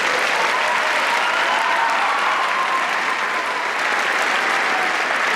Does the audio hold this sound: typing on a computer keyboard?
no